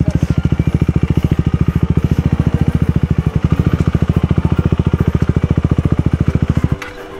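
Close, loud motorcycle engine running on slick tyres off-road, its steady rapid pulsing beat holding strong before cutting off abruptly near the end.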